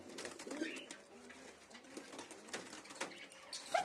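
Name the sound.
pigeons cooing in a pigeon loft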